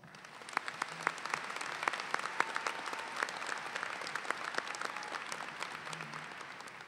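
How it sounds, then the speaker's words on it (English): Graduates and guests at a 2022 high school graduation applaud the teachers, a crowd's sustained clapping with distinct individual claps popping out, heard at a moderate distance in a large space. "And I ask all the graduates to please join me in giving all the teachers a round of applause."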